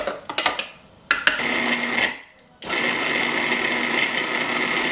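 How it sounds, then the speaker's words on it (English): A blender struggling through a thick frozen smoothie mixture, a few stuttering bursts first, then a steady loud whirring motor drone after a brief pause. "It's not blending smoothie, but that is okay. Just keep going."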